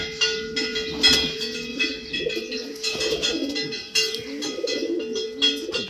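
Racing pigeons coo inside a loft, soft repeated throaty calls overlapping at close range alongside occasional chirps and rustling.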